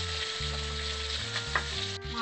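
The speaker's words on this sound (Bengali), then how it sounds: "মাথাটা ভালো করে ভাজা হয়ে গেছে।" A fish head fries in hot oil, a steady close sizzle with light crackling and an occasional stir, no voices over it.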